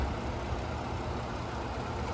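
A Lincoln Navigator engine idles, a smooth and steady low hum heard fairly quietly and evenly throughout, with no voices over it.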